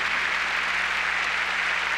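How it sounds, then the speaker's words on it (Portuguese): A church congregation claps together in a steady, dense wash of applause that holds at constant loudness without pause, with no clear voices over it. "Vamos agora aplaudir Jesus."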